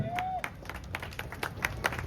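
Applause from a crowd at a Govinda troupe's felicitation ceremony, a brief burst of scattered claps with crowd noise and a short whistle-like tone near the start.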